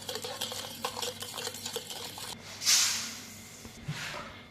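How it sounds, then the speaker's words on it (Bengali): Sponge chocolate cake batter stirred together in a bowl, a rapid scraping, clicking whisk rhythm up close, followed by a brief louder hiss and then a softer swish, with no talk. "সবকে একসাথে মিক্স করে নেব।"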